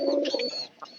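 Pigeons in a loft give a short, close, soft throaty coo that sounds clearly against a quiet background.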